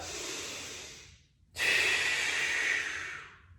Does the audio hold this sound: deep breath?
yes